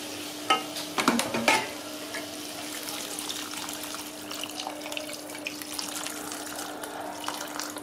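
Water goes into a simmering pot of food, starting with a few splashy pours and clinks, then settling into a soft steady bubbling and sizzle that continues faintly in a quiet kitchen.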